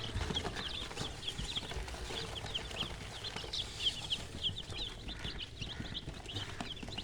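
Newly hatched chicks in a cotton box after leaving an incubator, giving repeated high, thin peeping chirps throughout, fairly close, over a steady low background rumble.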